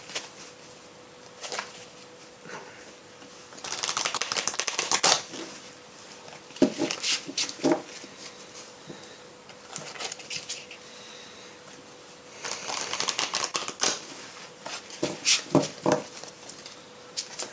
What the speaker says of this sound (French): Je vais remélanger parce que je pense que c'est les énergies de l'autre tirage qui sortent là